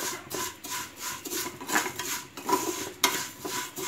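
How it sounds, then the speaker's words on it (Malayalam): Vermicelli for kheer being roasted in ghee in a pan, stirred with steady scraping and rubbing strokes and occasional light metallic clinks, close and moderately loud, with no talking. "ആ നെയ്യിലോട്ട് തന്നെ ഇട്ട് വറുക്കുന്നതാണ് നല്ലത്"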